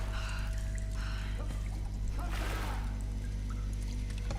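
Water pours in a short gush in the video game Tomb Raider over a steady low electronic hum, swelling briefly in the middle before settling back.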